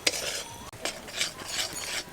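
A spatula scrapes and stirs melting sugar in a kadai, giving a run of soft, rhythmic scraping strokes at close range with no talking.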